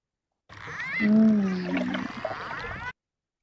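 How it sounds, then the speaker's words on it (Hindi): Dolphin calls, a run of high squeaky whistles and chirps with rising and falling pitch over a gurgling, watery backdrop, fairly loud and close, lasting a couple of seconds before cutting off. "डॉल्फिन की आवाज है जी ये।"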